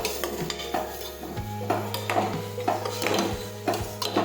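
A utensil scrapes and stirs spices, salt and sugar through cluster beans and potatoes in a pan, with repeated clinks and scraping strokes against a steady low hum.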